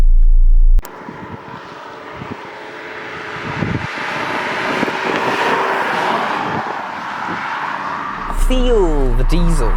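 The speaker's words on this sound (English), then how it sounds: "you can hear that lovely 2-litre diesel engine purr away" Audi A6 C6 Avant with a 2-litre diesel engine idling after start-up, a steady low rumble held for several seconds inside the car, with a brief electronic chime near the end.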